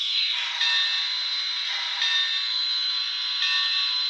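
Model train bell ringing continuously from a small speaker held up off a table, a bright, steady metallic ding with faint pulses about every one and a half seconds over a thin hiss.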